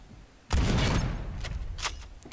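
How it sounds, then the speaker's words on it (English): .50 caliber gunfire in a video game: a quiet moment broken by a sudden loud burst of heavy shots that rolls on with sharp cracks and reverberation. "I'm going to shoot them in the head with 50 caliber bullet"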